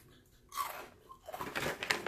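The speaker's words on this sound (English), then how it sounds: "They're crunchy." Small crunchy potato-style chips being bitten and chewed close up, a few crisp crunches spaced over two seconds with quiet pauses between them, no talking.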